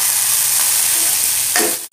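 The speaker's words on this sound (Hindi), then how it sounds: "ये हरी मिर्ची डाल रही हूँ मैं।" Green chilies sizzle in hot oil with cumin seeds in a pan, a loud steady frying hiss that swells briefly near the end and then cuts off, with no talk.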